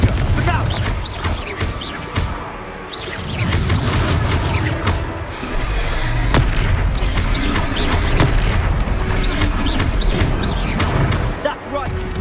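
Confringo explosive spell blasts in Hogwarts Legacy, heavy booms and crashing bursts rolling through dense, continuous game combat noise, with voices talking over the action.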